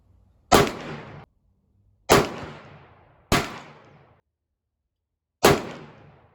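A Smith & Wesson Model 66 .357 Magnum revolver fires a Winchester 231 powder load four times: loud, close, sharp reports, each followed by a short decaying echo, spaced unevenly over a few seconds.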